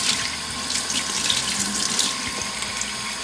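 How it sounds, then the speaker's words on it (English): Tap water running from a sink faucet over the muddy sole of a Nike Nitrocharge football boot, a continuous bright splashing hiss with small flickers as the stream hits the studs, no talking. "you can just run the water over it"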